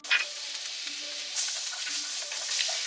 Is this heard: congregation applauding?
no